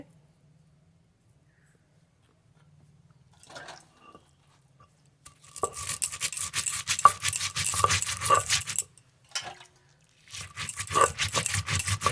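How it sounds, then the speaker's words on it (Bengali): Coriander and cumin seeds being ground by hand for chili chicken, with rough scraping strokes in bursts, several seconds of quiet first and then repeated close grinding passes with a short pause between them. "তার জন্য মশলা বেটে নেব ধনে জিরে"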